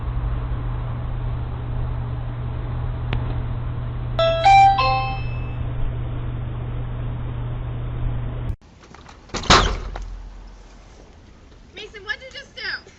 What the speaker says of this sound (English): This lizard decided to ring this doorbell.